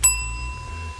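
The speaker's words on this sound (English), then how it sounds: "I got to have my bell ready." A single bright bell ding, like a bicycle bell, struck once as a comedic sound effect, clear and close, then ringing out and fading over about a second.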